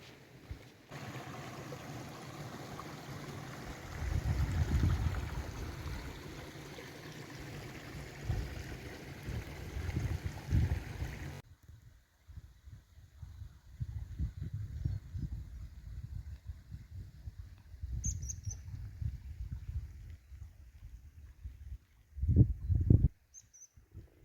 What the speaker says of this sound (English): It's hard to get access to see the waterfall, but I can hear the rushing water.